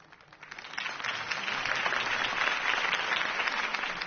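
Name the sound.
crowd applause in video game Batman Telltale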